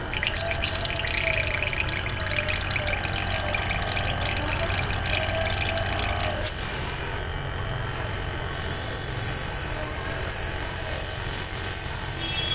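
An airbrush makeup machine runs as it is cleaned, giving a continuous faint motor hum and hiss with a brief click partway through; a voice murmurs in places.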